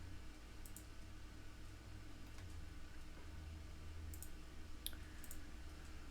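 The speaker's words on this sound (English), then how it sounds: "Yeah, I got a new keyboard, so that's probably why the click-a-clacks are back." Sparse keyboard clicks on a new computer keyboard, a few scattered light taps over a steady low background hum, fairly quiet and with no talking.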